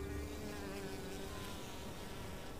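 Bees buzz steadily and faintly while gathering pollen from nectarless flowers in the Ticino mountains of Switzerland, a continuous insect drone with no talk.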